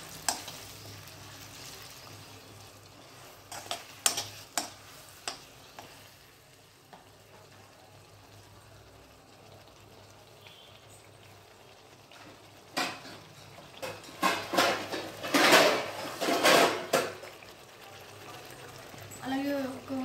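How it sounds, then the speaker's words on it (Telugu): Eggplant pieces being stirred in a pan while cooking, with scattered scraping and clattering bursts, a busier stretch of mixing near the end, and a faint sizzle underneath. "వీటిని అయితే ఇలా ఒక్కసారి బాగా కలుపుకోవాలి."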